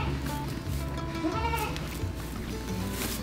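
Goats bleating on a farm where two goats are in labor, with several overlapping wavering bleats, close and fairly loud, over steady background barn noise.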